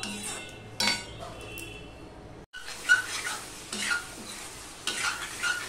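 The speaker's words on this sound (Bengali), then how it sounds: "এবার মশলাটা সম্পূর্ণটা ভালো করে মিশিয়ে নিয়ে এবার কষাতে থাকবো।" Fish jhal spice paste with a little water being stirred and fried in a pan: a spoon scrapes and clinks against the metal in bursts over a continuous sizzle, with a brief silent break midway.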